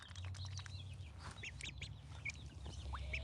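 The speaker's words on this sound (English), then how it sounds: "And they squeak, like they don't really quack quack." Young ducklings on a homestead give faint, high, short squeaks and peeps that overlap in a quiet, scattered chatter, with no real quacking.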